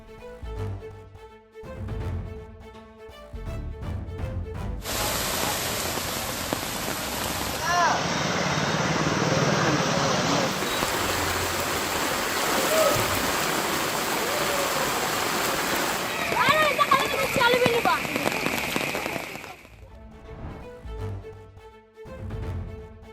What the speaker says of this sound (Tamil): தேசத்தின் பல்வேறு பகுதிகளில் பெய்த கனமழையால் பல இடங்களில் கடுமையான வெள்ள நீர் தேங்கி மக்கள் அவதி